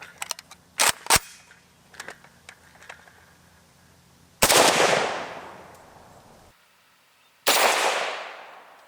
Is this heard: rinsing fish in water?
no